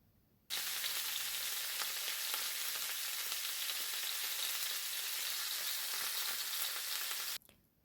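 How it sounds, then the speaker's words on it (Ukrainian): Pieces of rabbit meat frying in hot oil in a heated pan, a steady close sizzle that starts abruptly, holds evenly for several seconds, then cuts off. "І тепер на олії, на розігріті сковороді, ми обжарюємо ці шматочки."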